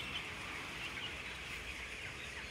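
Chickens in a farm barn make a soft, distant rustling hum with faint clucking mixed into steady background noise, quiet and continuous.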